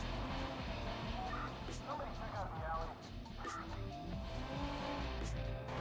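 Car driving through back alleys in Watch Dogs, a steady engine hum with tire and skid noises, with someone talking over it throughout.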